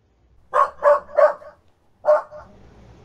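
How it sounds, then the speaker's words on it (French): A dog barks three times in quick succession, then once more after a short pause, loud and close, with no talking. "Il aboie?"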